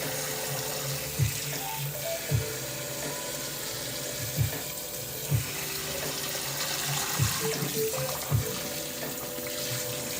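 Cold tap water runs steadily over tie-dyed fabric as it is rinsed and unfolded, a constant close splashing hiss broken by several soft thumps at roughly one-second intervals.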